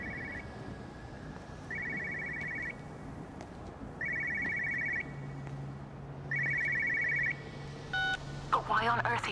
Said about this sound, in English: I know a phone when I hear one.